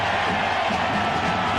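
Loud, continuous cheering and whooping from a college football stadium crowd at a 1997 Michigan at Wisconsin game, a dense roar filling the whole moment.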